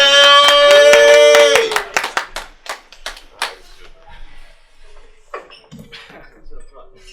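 Scattered claps from a small open-mic comedy audience follow a short burst of tonal music, then thin out under a comedian's talk.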